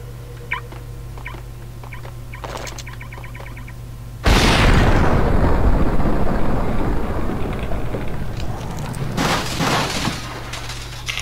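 A grenade going off in Max Payne, a sudden loud close blast that erupts from quiet ambience and rumbles away over several seconds.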